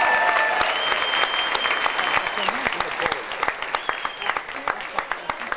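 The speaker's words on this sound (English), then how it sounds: "Nice round of applause for these couples." Applause from a ballroom audience at an amateur Latin dancesport championship final, a dense wash of clapping that thins into scattered claps toward the end, with some faint talk mixed in.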